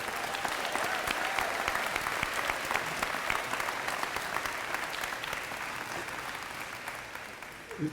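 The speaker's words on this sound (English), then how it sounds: "please join me in a round of applause for Dr. Ross, his faculty, and staff" Audience applause at the grand opening of a new girls' program at a West End school in Louisville, a steady dense wash of many hands clapping throughout, fading slightly near the end.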